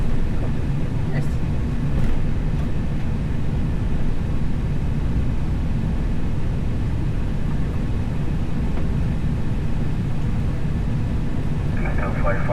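A small airplane's engine drones loudly and steadily during start-up and takeoff, heard from the cockpit in turbulence, with faint radio chatter under the roar.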